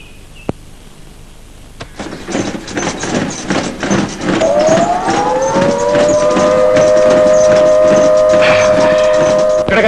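A loud factory siren wails, rising in pitch and holding a steady sustained tone, over a busy background of clanks and noise.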